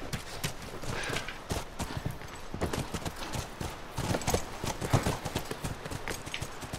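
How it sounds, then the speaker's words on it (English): Horse hooves clip-clop steadily at a brisk pace in the video game The Last of Us Part II, with a continuous noisy background and no talking. "we're horse riding now."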